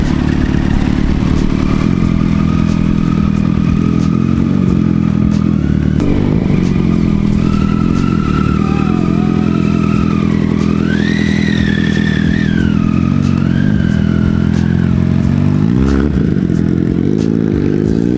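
Ducati Multistrada 950 motorcycle riding on a desert road near Jaisalmer, a loud continuous engine drone that rises and falls with revving and gear changes, heard from on the bike.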